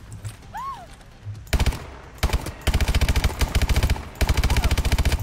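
Rapid automatic gunfire in Call of Duty Advanced Warfare, loud close bursts of repeated shots in several long volleys with short gaps, following a quieter stretch of battlefield noise.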